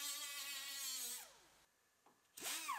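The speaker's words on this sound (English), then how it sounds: "Grind off our welds on the bottom." An angle grinder cuts through welds along the bottom of a GMC Yukon quarter panel, its high whine winding down after about a second and a half, a brief pause, then spinning back up loudly near the end.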